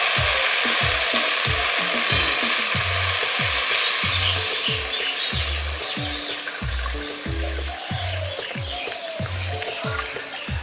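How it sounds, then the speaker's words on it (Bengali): Potatoes in a gravy-coated pan sizzle and fry loudly as water goes in, with a steady hiss and crackle over repeated low knocks of a spoon stirring against the pan. "এবার আলুগুলো সেদ্ধ করার জন্য আমি এবার জল দিয়ে দেবো এতে পরিমাণ মতো।"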